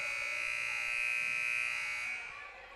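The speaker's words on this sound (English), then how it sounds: "that's a weird odd buzzer, an errant buzzer there" A steady electronic buzzer drones continuously at moderate volume during a high school volleyball match, tapering slightly near the end, with faint background noise beneath it.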